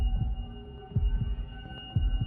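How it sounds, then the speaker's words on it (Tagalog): Heartbeat sound effect for a horror story: deep, muffled thumps return in roughly paired beats about once a second over a steady low hum, with no voices. "ang bilis ng tibok ng puso ko"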